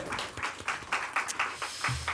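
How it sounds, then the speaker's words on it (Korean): A youth-service congregation in church claps in a steady, rhythmic beat of sharp hand claps, fairly close and moderately loud, lasting a couple of seconds without talk. "하나님께 영광의 박수 올려드립니다"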